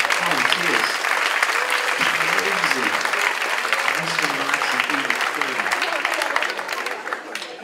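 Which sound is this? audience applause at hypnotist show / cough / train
audience applause at hypnotist show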